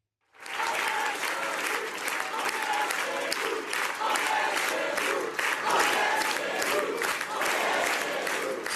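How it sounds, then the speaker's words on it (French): A large crowd at a French political rally chants in loud rhythmic bursts, the massed voices and clapping swelling together in a steady pulse that starts suddenly and keeps going throughout. "on est chez nous, crié par la foule face à vous"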